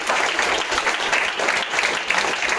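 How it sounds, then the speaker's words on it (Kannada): An audience bursts into dense, sustained applause for the artists after a concert, many hands clapping together in a steady, close roar throughout. "ಮತ್ತೊಮ್ಮೆ ಎಲ್ಲ ಕಲಾವಿದರು ದೊಡ್ಡ ಚಪ್ಪಾಳೆ ಮೂಲಕ"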